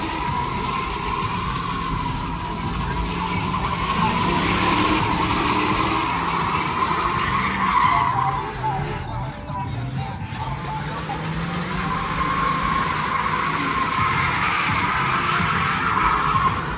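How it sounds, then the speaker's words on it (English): A car doing a burnout, a Mercedes with tires burning and skidding, a loud continuous roaring screech of rubber that swells and dips briefly mid-way, heard close with some voices mixed in. "goddamn burning tires"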